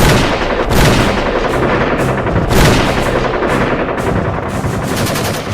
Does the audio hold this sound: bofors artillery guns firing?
yes